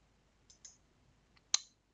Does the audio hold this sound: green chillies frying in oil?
no